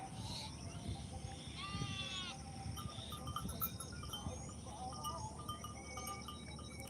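A young goat kid bleats a few times among farm background noise, with a faint voice or two and some rustling, the calls moderately close but not loud.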